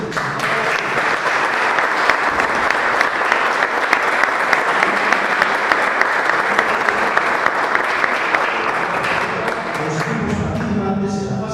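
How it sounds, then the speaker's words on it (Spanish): Loud, sustained applause from an audience at a football cup group-stage draw ceremony, welcoming players, dense clapping throughout that thins toward the end as other sounds emerge. "Recibamos con un fuerte aplauso a nuestros futuros campeones y campeonas"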